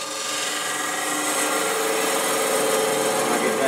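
Wood lathe turning a clamshell box, a steady continuous scraping hiss of the cutting tool on spinning wood, close and even throughout with no talk.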